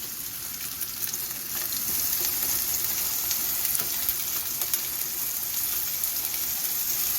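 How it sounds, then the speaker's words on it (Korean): Pork belly sears in a hot pan, giving a continuous, even sizzle and crackle at close range with no talking. "지글지글 익는 소리가 났다"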